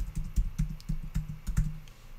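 Crisp, quiet clicks of a computer keyboard as a password is typed into an email login, a quick irregular run of keystrokes close by with short pauses.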